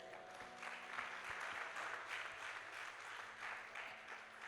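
A church congregation at a French-language Sunday service claps steadily in praise of the Lord, a sustained wash of applause from many hands with a faint tonal hum beneath.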